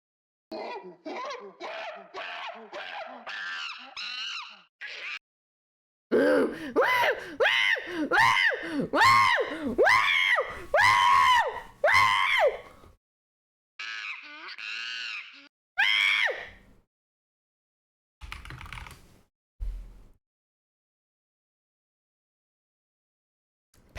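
A person vocally imitates a monkey, giving a run of excited, high-pitched whooping and chattering calls in bursts with short pauses, loud and close, with a few shorter bursts near the end.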